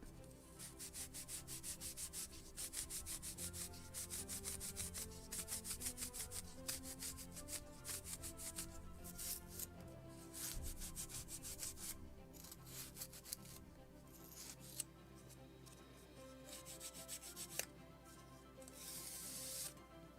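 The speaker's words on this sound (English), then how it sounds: "And slight polishing with the Scotch Brite." A Scotch-Brite pad polishes a small wooden part for a model of the 1776 gunboat Philadelphia, making a close, rapid back-and-forth rubbing that runs in bursts with brief pauses.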